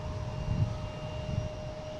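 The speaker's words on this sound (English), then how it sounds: "we have a Delta coming in from Wilmington" Delta airliner arriving at Boston Logan from Wilmington, a low, moderately faint engine rumble that swells slightly twice over a couple of seconds.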